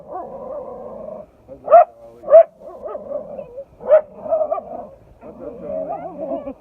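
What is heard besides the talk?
dog barking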